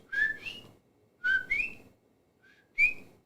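A human voice imitates the call of the coqui frog from Puerto Rico with three whistled two-note chirps, each a short low note rising to a higher one, spaced about a second apart and heard up close without other sound.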